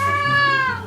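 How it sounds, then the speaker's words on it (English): A cat gives a single clear, sustained meow close by, with a steady low hum behind it in an indoor room. "Cat."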